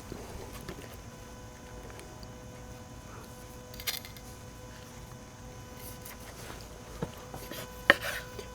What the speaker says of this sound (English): I'm going to take the steak and cut it up